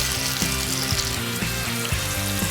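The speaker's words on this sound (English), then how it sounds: "I'm adding just a few drops of water to deglaze any masala that is stuck to the bottom of the pan." Water hits a hot pan of Goan chicken cafreal masala to deglaze it, giving a steady, loud hiss and sizzle that runs throughout with no talking.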